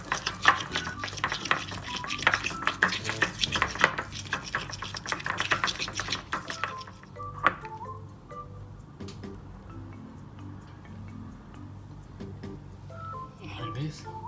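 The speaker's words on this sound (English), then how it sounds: "Then mix it very well to make a nice color." Rapid scraping and stirring clatter from a bowl as red food coloring is worked into homemade doughnut dough, busy and close for several seconds, then giving way to quieter scattered clicks and faint background noise.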